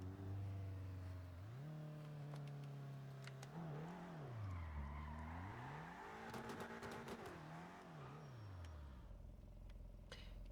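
BMW F10 M5 engine in GTA 5, a low engine note that revs up and down through several gear changes with rising and falling pitch, moderately near, with some tire noise before it fades out at the end.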